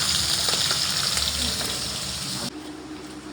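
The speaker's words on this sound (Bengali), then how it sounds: "দুপুরের জন্য এখন রান্না হচ্ছে মাছ" Loud steady sizzling of freshly caught fish frying in a pan on a home stove, the start of a fish curry with potato and taro, crackling hiss that drops away abruptly near the end.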